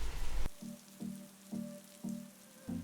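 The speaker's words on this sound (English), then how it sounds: "it is raining today" Rain falling on Green Island, Taiwan, heard as a soft steady patter with a few louder, rhythmic drops or drips at regular intervals, with no voices.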